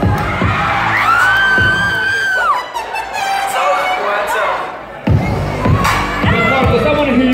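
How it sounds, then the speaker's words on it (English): A prom crowd loudly screams along to song lyrics, with many voices singing and yelling together in a continuous, energetic wall of sound, briefly dipping before surging again. "Screaming the lyrics."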